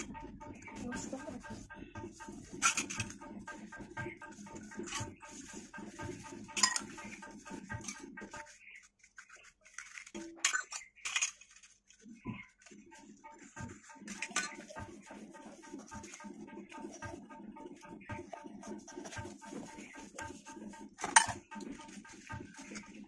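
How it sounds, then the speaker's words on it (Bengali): Metal pots and utensils being scrubbed and rinsed with sand and water, giving close clinks, scraping and clatter in irregular bursts, with a short lull partway through. "এগুলো বালি দিয়ে ভালো করে মেজে নিয়েছি, আবার জলে ধুয়ে এটাকে স্পার্কেল দিয়ে মেজে নেব।"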